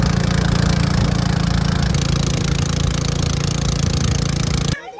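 A boat engine drones loudly and evenly on a river ride near Banlung, Ratanakiri, Cambodia, holding a steady mechanical chug before cutting off abruptly near the end.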